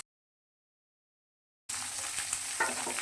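Chopped tomato and green chilli begin frying abruptly after a moment of silence, a close, bright sizzle with light scraping of a spatula in the pan.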